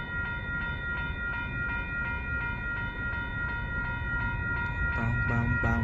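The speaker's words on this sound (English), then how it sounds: "looks like we got what seems to be a train coming" A Union Pacific freight train approaches a railroad crossing in Willcox, Arizona, with crossing bells dinging steadily over heavy rumbling and a horn rising near the end.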